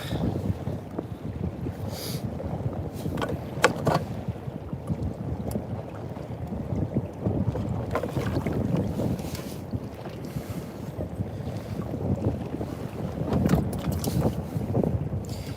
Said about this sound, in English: Jeez, it's getting windier.